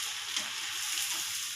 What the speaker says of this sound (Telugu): మిగతా చకోడీలు కూడా ఆయిల్లో ఫ్రై చేసుకోవాలి.